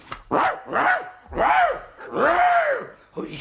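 A person mimics a big dog with four drawn-out, growly barks, each longer and louder than a normal yap, close to the listener.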